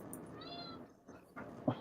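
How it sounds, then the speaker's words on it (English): A pet cat meows close by at someone's feet indoors, giving a couple of short, clear calls with a brief sharper sound near the end and no talking. "That's my cat. She's like right here at my foot."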